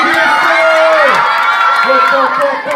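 Young fans cheer and shout at a school quiz show held at a book fair in Cankarjev dom, with excited voices rising and falling close by.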